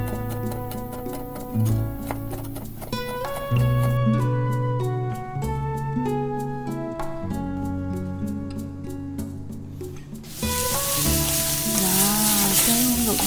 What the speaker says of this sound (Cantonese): 雞胸肉已經煎到好香咯喎